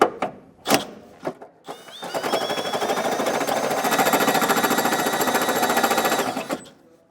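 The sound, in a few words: step drill bit enlarging a hole in a Ford Edge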